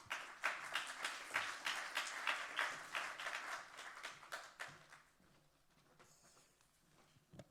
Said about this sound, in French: Mesdames et messieurs, veuillez applaudir Guillaume Krabal.